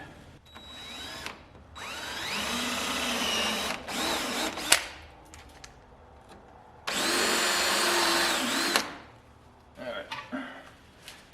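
A power tool cutting down bolts during a budget Mustang street car build, with two loud sustained whining runs separated by pauses, plus clanks and shop noise, close up with someone talking at times.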